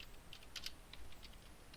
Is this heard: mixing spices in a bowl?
no